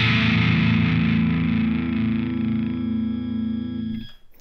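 An electric guitar played through a Death By Audio Germanium Filter pedal rings out as a thick, distorted, bass-heavy sustained chord, loud and alone, slowly decaying before being abruptly muted.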